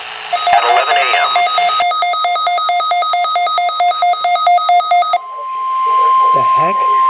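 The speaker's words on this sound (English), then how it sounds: "Test of the NOAA Weather Radio All Hazards Warning Device for station KZZ-31 in Hamburg, New Jersey." A NOAA Weather Radio All Hazards warning device for station KZZ-31 in Hamburg, New Jersey sounds its test: rapid pulsing digital data bursts followed by a steady loud alert tone, with a voice talking faintly underneath.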